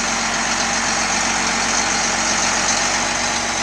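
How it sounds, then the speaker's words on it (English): A John Deere 8570 tractor at a farm auction near Stoughton, Saskatchewan idles steadily, a close, constant broadband engine rumble with no talk. "There's the John Deere 8570"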